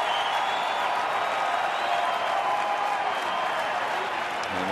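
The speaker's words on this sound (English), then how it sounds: "Crowd getting into it." Baseball crowd at a Tigers game cheering and applauding during an RBI chance, a sustained dense roar of clapping and shouts from a large stadium crowd, steady and loud throughout, with a faint announcer voice under it.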